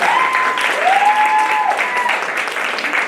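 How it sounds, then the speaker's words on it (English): An audience applauds a speaker at a campus student council campaign event with steady, sustained clapping from many hands throughout, while a faint tone sounds over it. "please round of applause for Ms. Given"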